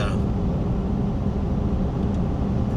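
Steady broadband road and wind roar from a custom-built Stomper vehicle with big tires cruising at 65 mph, a constant loud rumble with no breaks.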